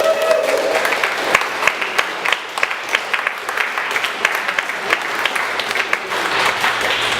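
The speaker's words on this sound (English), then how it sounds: "Let's give him a round of applause" An audience at a convention closing ceremony breaks into a sustained round of applause with sharp individual claps popping out of it, steady for about seven seconds.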